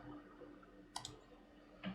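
A computer mouse clicked during a BIOS update: a quiet double click near the middle, then another faint click at the end, over low room hiss.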